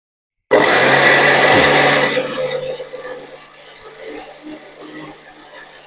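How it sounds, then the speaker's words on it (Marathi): A mixer grinder grinding dosa batter whirs loudly and steadily, then the motor winds down to a lower, uneven grinding hum. "मिक्सरवर आपण बारीक वाटून घेऊया"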